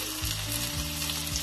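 Cumin and coriander powder frying in oil in a pan for a tilapia fish curry, a dense continuous sizzle with a brief stir, loud and close, no voices.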